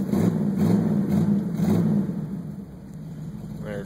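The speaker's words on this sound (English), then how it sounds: "1968 Dodge Dart startup" The 340 V8 in a 1968 Dodge Dart GT rumbles loud and close, rising and falling through a few revs before settling toward a steadier idle.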